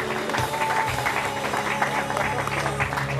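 Crowd applause at a cycling race event in Krynica, a dense patter of clapping hands that carries steadily through the moment, with voices mixed in under it.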